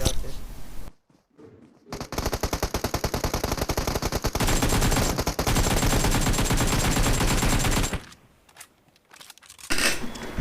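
Loud automatic gunfire from the mobile battle-royale game PUBG Mobile rattles in a long, sustained burst after a couple of brief shots, then cuts off, with a final short volley at the end.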